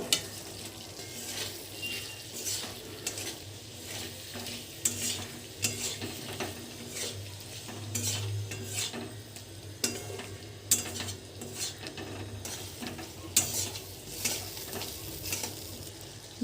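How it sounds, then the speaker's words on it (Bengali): Pointed gourd (potol) cooking in a pan with a mustard and green chilli paste, turmeric and chilli powder, giving a soft, steady sizzle broken by frequent spatula scrapes and stirring clatter. "পটল ভাজা"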